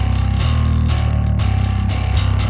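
Electric bass played through the distortion channel of a Eurobass III pedal, giving a loud, gritty, saturated tone with thick harmonics as a few sustained notes change at a steady pace.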